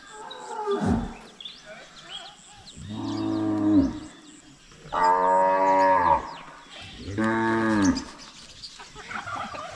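Cattle in a stockyard, including a native breed, give several long, loud moos one after another, each a sustained bellowing call with short quiet gaps and faint background noise between them.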